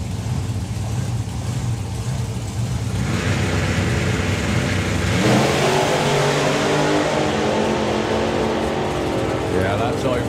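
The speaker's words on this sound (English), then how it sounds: "The supercharged little dragster for Walters Motorsport." Walters Motorsport's supercharged little dragster runs at a drag racing event: an engine rumble rises into a loud, sudden roaring launch and sustained blast down the strip, with announcers talking over it.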